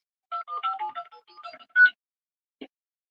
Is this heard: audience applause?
no